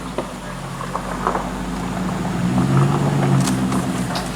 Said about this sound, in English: Man, this exhaust does sound good.